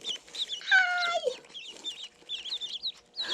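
Ducklings from a poultry hatchery peep in high, rapid chirps, several overlapping calls close by that come in bursts across the whole clip, with no talking.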